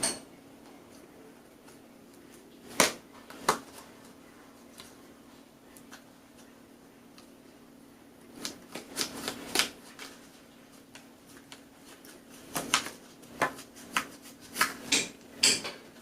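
A blade scoring lines into a grip handle for a field recorder, producing sparse sharp scrapes and ticks at first, then denser clusters of rasping cuts and clicks close by against a low steady hum.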